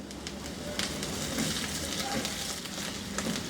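Chopped garlic and grated ginger fry in a pan for chicken chili, making a steady, close hiss and crackle with a few scraping stirs, while a voice talks over it.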